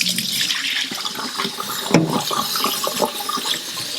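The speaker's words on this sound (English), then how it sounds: "Rinse it about maybe 5 times, depending on how much rice you have" Rice is rinsed in a bowl of water with steady splashing, swishing and trickling nearby. A brief louder slosh comes midway, and no one speaks.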